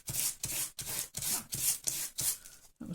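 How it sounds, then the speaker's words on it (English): Sandpaper roughening a surface for a pocket flower press, quick back-and-forth rasping strokes, about seven in a steady rhythm, close and soft, with no talk. "If you just got a bit of sandpaper, just give it a bit of roughness."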